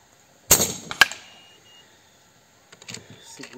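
A shot from an M22-barrel URKO III bullpup airgun firing a JJ slug: a sharp, loud crack followed by a second quick impact-like snap, then a quieter pause before faint handling sounds.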